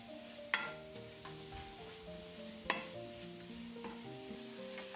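Finely cut vegetables for a vegetarian curry samosa, minus the mushrooms, sizzle softly in a pan. A utensil stirs and scrapes them, with a couple of sharp clinks. The sound is faint and close, with no voices.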